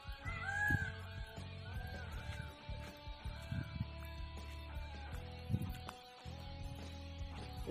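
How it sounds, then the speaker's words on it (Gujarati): Peacocks call near a Hindu temple in a rural Gujarat setting. Their high, wailing cries come in a few distant, faint bursts over soft background ambience and brief murmuring. "તો જો મોરે કેવા બોલે છે,"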